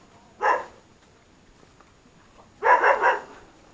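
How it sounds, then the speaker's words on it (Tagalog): A dog barks once, then after a pause lets out a quick run of three barks, fairly close against quiet background. "Nako, patay, may aso."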